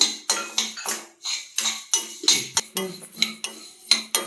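Black urad dal dry-roasting in a pan over a low flame, with a utensil scraping and clinking against the metal in quick, regular strokes, close by and without voices.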